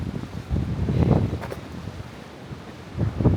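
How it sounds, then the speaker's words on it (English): Strong sea winds buffet the microphone, roaring in bursts over a background of surf; no talking. "Even when it's so windy."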